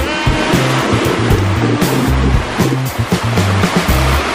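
Caribbean Sea surf washes in loud and close as a continuous roaring rush of water, with slight surges in the churn and no talking.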